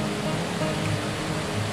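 A mountain stream flows on the trek from Rambaug Point to Garbett Plateau at Matheran, a steady, broad rush of water close by without voices.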